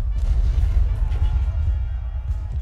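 Heavy cannon fire in Ultimate General: Gettysburg, a deep, rumbling, continuous bombardment dominated by low booms, loud and sustained with no clear gaps.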